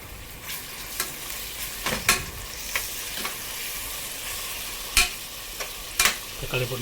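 Tomatoes fry with onions in a pan, sizzling steadily as a spoon stirs them, with several sharp scraping knocks against the pan spread through the clip.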